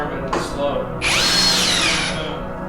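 A $29 Harbor Freight power screwdriver whirs loudly for about a second, its motor pitch rising and falling, right after a brief earlier burst; the tool is close and stands alone with no talk over it.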